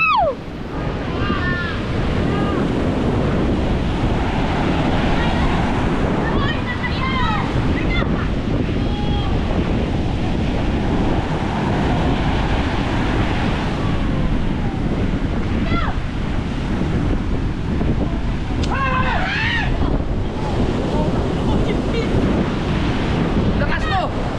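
Loud, roaring storm surge waves and heavy wind buffeting the microphone on a coastline where water is entering houses, continuous and close, with occasional faint shouting voices in the background.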